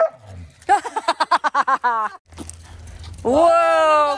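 Small and larger dogs play tug with a big toy, giving a run of rhythmic yips and whimpering barks, then growly vocal sounds, close by, with a person's voice in between.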